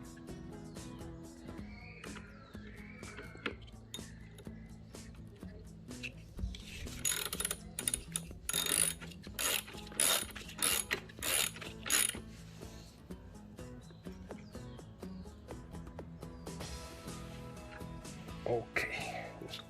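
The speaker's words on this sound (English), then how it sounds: "Use your ratchet." Ratchet with a 9/16 socket tightening a pedal kit, a series of close, quick clicking ratchet strokes coming in bursts, loudest in the middle stretch, amid quiet handling noises.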